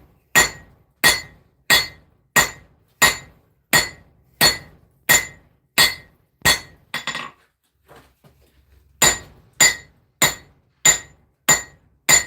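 Cross peen hammer blows ring out on steel while a knife handle is forged and widened, about a dozen sharp, evenly spaced metallic strikes with a brief pause near the middle before the rhythm resumes, loud and close.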